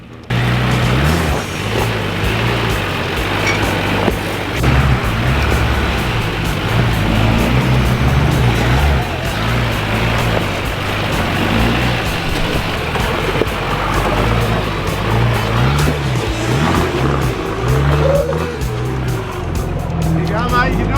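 A twin-lock Nissan GU Patrol 4WD crawls over an adventure-park off-road course, its engine a loud, unbroken rumble that swells and eases as the throttle changes.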